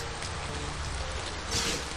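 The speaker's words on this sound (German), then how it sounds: "Ich mach den Regen mal leiser" Steady rain ambience from the video game Vampires Dawn 3 hisses evenly and fairly quietly throughout, as a continuous wash with no talk.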